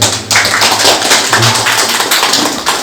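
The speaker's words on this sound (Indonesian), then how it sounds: "Tepuk tangan untuk UGM." An audience at a Rembang regency event with Universitas Gadjah Mada claps in a dense, fairly loud burst that fades toward the end, with little talk over it.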